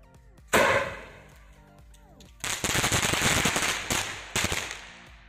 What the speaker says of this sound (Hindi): गाइस सबसे पहले जलाते हैं विनेगा सेवन शॉट को।